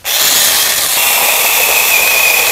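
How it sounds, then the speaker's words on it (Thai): An OSUKA cordless pole pruning saw runs steadily while cutting tree branches, giving a continuous bright mechanical whine from start to finish with no talk. "เลื่อยโอซุกะนะครับโอซุกะเลื่อยไร้สายนะครับเลื่อยตัดแต่งกิ่งทรงสูงนะครับ"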